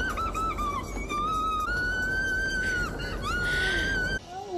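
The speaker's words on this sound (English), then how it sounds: "What was that scream?" A scream from the horror film Friday the 13th Part VIII: Jason Takes Manhattan: a long, wavering, high-pitched cry that rises and falls over several seconds against a rumbling film soundtrack, then breaks off near the end.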